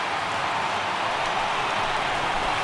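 Large stadium crowd of about 36,000 in a Colorado at Miami baseball video game rising to its feet, a steady dense roar of cheering that stays loud and unbroken throughout, with no clear speech over it.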